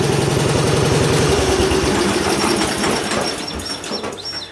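A 1975 Gilson garden tractor engine runs loud and close with a fast, steady chugging beat, easing slightly toward the end, with no talking.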